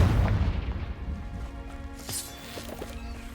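Fiery Confringo spell blast in the Hogwarts Legacy game, a deep rumbling boom at the start that fades into a lingering crackle with a few small pops.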